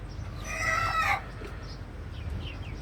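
A hen calls out with a loud, harsh squawk lasting about half a second from a small rooftop chicken coop, then settles into quieter background noise with a few faint chirps.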